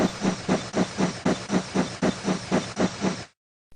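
A toy steam engine chuffs in with about a dozen steady, evenly spaced hissing puffs, close and fairly loud, then stops abruptly into silence.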